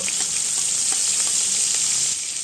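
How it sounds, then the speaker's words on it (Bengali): Dry red chilli, panch phoron and garlic sizzle in hot oil for a Bengali red amaranth greens dish, a loud, continuous crackling fry up close, with no one talking. "তেল দিচ্ছি একটু শুকনো লঙ্কা পাঁচ ফোড়ন শাকে কিন্তু পাঁচ ফোড়ন দিলে বেশি ভালো লাগে"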